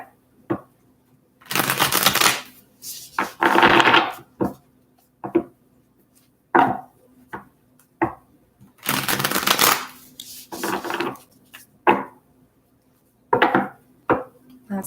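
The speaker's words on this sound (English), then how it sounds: "Okay, just a few more shuffles here." Tarot cards being shuffled in repeated bursts, crisp riffling and flapping close up, separated by short pauses and light taps as the deck is squared, with no talking.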